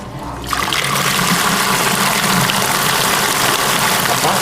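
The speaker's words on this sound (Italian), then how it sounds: "Adesso alzo il galleggiante e da qui uscirà acqua." Submersible pump starts discharging once its float is raised, switching from a quiet low hum to a loud, steady gushing of water close by for the rest of the clip.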